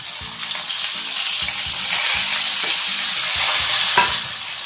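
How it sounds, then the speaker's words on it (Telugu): Eggs and dried salted fish fry in a pan with a loud, steady sizzle, broken by repeated scraping as the pieces are stirred. "ఇవి ఎర్రగా అయ్యేదాకా వేయించుకోవాలి."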